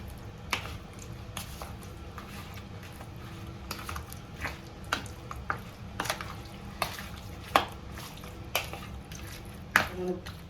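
Raw chicken being mixed with salt for a marinade makes wet squishing and irregular clicks of a spoon against a bowl, close and fairly quiet, with scattered sharper knocks.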